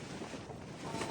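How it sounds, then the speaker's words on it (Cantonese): Typhoon wind gusting in Hong Kong, a continuous broadband roar buffeting the microphone, steady and strong with a slight swell toward the end. "俾你哋感受下香港嘅10級颱風、8級颱風咧，就係咁嘅嚟"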